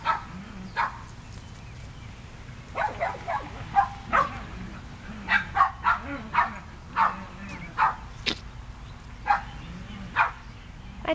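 Several Shetland Sheepdog puppies bark and yip in short repeated bursts in a yard, some high and puppyish, with occasional whimpers and a low steady background hum.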